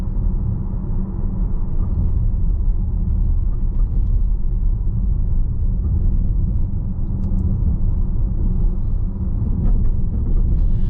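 Cabin rumble inside a 2023 VW ID.4 Pro S AWD electric SUV on the road, a steady low-frequency drone with soft thuds as the tires roll over bumps, no engine note and no talking.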